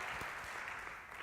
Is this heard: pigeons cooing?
no